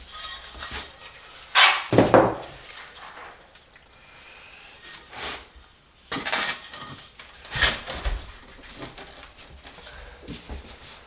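A trowel back-buttering thinset mortar onto wall tiles during a mobile home wall renovation makes intermittent close scrapes and light clinks, with a few louder bursts separated by quieter stretches and no speech.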